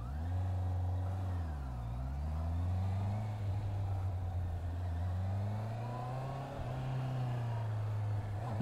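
A Suzuki GSX-S 750 motorcycle engine revs up and pulls away in first gear, loud and close, its pitch rising and dipping as the throttle opens and eases off.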